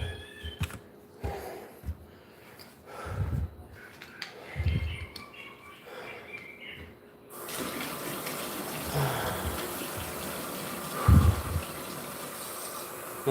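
Tap water runs steadily into a bottle, a continuous rushing wash that starts partway through after some handling noises, with a brief louder splash near the end.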